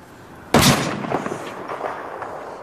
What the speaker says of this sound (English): They're shooting with their MGs.